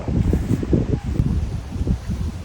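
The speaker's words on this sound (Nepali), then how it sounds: "हावा पनि चलिरहेको छ" Gusty wind outdoors in Poland buffets the microphone with loud, rumbling bursts that rise and fall throughout.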